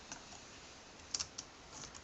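Bluetooth keyboard typing for a Samsung Galaxy Note 2 used as a PC, heard as a few faint, scattered key clicks with a short cluster of taps near the middle, quiet and alone.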